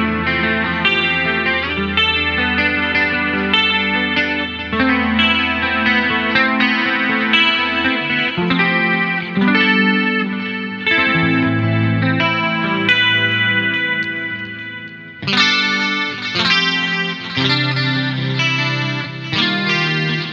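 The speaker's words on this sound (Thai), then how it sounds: "ลองเล่นกับเอฟเฟกต์คอรัสดีเลย์รีเวิร์บนะครับไล่ปิกอัพทีละแก๊กเลยนะครับ" An Umeda ST 50 Alnico SSH electric guitar played through chorus, delay and reverb effects rings out in sustained, shimmering chords and notes, loud and close, with a brighter shift partway through and no talk.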